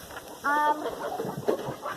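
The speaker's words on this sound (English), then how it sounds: "Behind me, chickens are upset." Farm chickens cluck and squawk nearby, an agitated burst of calls followed by softer scattered clucking.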